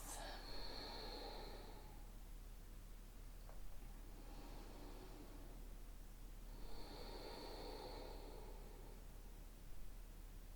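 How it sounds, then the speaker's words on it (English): Slow, deep breaths during a yoga session, each long airy inhale or exhale soft and close, separated by quiet pauses, three or four breaths in all with no talking. "Return to your natural breath."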